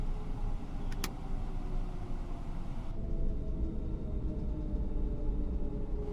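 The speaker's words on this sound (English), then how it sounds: "Listen to these engines, guys." Airbus A321neo jet engines in Microsoft Flight Simulator running at light power, a steady low rumble and broadband roar with a faint tonal whine, a brief high chirp early on, continuous throughout.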